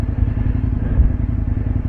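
A 2004 Aprilia RSV1000R motorcycle being ridden, its engine a loud, close, steady droning rumble throughout a short stretch with no voices.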